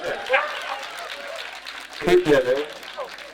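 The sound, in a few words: comedy club audience applause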